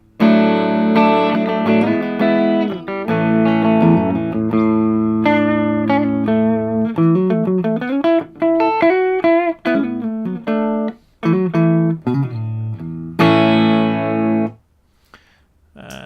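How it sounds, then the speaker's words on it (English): Clean electric guitar with both humbucker pickups on, playing chords and picked single notes, bright and full, with short pauses between phrases and a final ringing chord. "my clean sound with both pickups on sounds like this"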